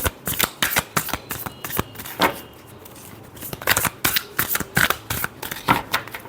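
A deck of tarot cards being shuffled during a reading, with a steady run of crisp riffling snaps and flutters, close and fairly loud, repeating in quick bursts throughout.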